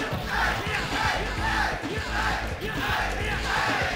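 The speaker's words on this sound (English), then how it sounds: "The crowd cheering along with every hit of the Ganagen." A tournament crowd roars and yells through a Street Fighter III: 3rd Strike fighting game match, a loud sustained swell of cheering voices with rhythmic surges, no clear single speaker.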